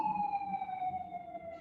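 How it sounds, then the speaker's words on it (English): An emergency vehicle siren wails in a long, slowly falling tone outside on a Brooklyn street, distant and faint beneath room tone. "I apologize for the sirens, but you know, it's Brooklyn."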